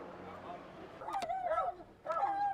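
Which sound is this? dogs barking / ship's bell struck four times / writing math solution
dogs barking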